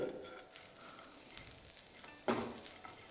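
Spices and grated coconut dry roasting over a low flame in a frying pan give a soft, steady sizzle and faint stirring scrapes, with one louder scrape partway through; no one speaks.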